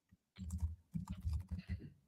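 Typing on a computer keyboard: a close, uneven run of soft key clicks and thumps that starts after a brief pause and continues steadily.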